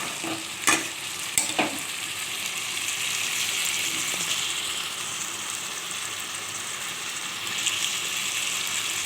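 Chicken kosha cooking in a pan with yogurt, salt and turmeric, a steady broad sizzle running throughout, with a few sharp spoon scrapes against the pan near the start.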